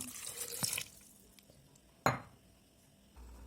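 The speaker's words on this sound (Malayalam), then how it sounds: "കുറച്ച് വെള്ളം ഒഴിച്ചു കൊടുക്കാം" Water pours into a blender jar holding star fruit and lemon juice for a healthy drink, a short splashing burst near the start, then a sharp clatter and quiet.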